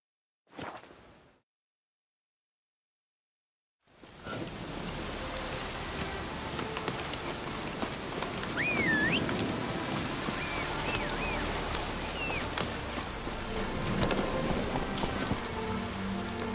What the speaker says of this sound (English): Witches have conjured rain again.